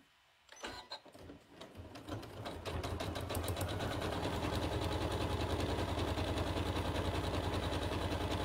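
A sewing machine zigzag stitching a jelly roll rug starts with a few slow stitches, then speeds up into a fast, steady mechanical chatter, close and continuous with no talk over it.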